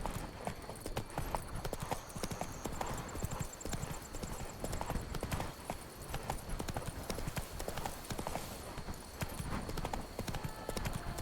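A horse's hooves clip-clop steadily in The Witcher 3 video game, a brisk, even trot of close, moderately loud hoofbeats running throughout under a faint game background.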